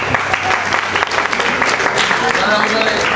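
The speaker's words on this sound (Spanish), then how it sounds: "Un aplauso para ustedes." Loud, dense applause from a concert audience at a metal show in Quito fills the whole stretch, steady and close with no gaps.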